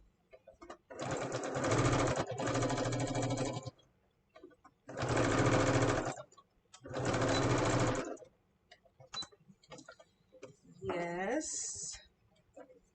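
A sewing machine stitches rows into a tool apron in three loud, steady bursts of whirring, each a couple of seconds long, separated by short pauses with handling noise.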